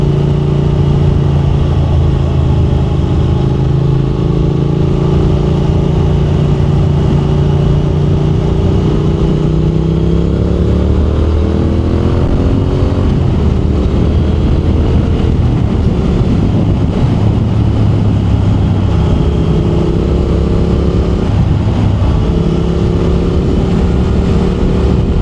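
A low-mileage Triumph Thruxton R 1200 motorcycle is ridden at speed, its engine droning loud and close with rising and falling revs through gear changes, buried in heavy wind rush over the microphone, with no talk.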